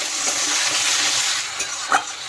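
Spiced masala sizzles in hot oil as it is stir-fried for a besan-based fuluri aloo dish, a steady close crackle with a couple of brief spatula scrapes.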